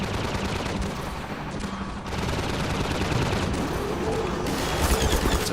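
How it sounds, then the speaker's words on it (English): Rapid bursts of gunfire rattle steadily in Half-Life 2, dense and continuous with heavy distant booms, loud throughout with no pauses. "Here's somebody shooting at something somewhere."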